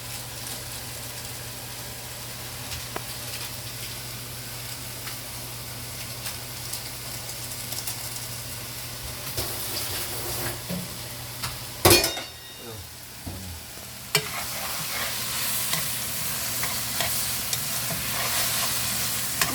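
Vegetables stir-fry in a pan for homemade ganjjajang, a steady close sizzle running throughout with occasional utensil scrapes and one sharp clatter midway, no talk heard.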